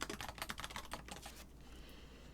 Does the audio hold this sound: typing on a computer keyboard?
yes